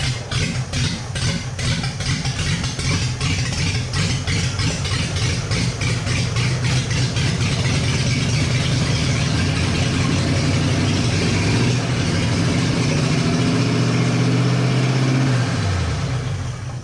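A roadster's engine idles loud and close with a steady rough rumble and a fast pulsing beat that wavers, then winds down near the end.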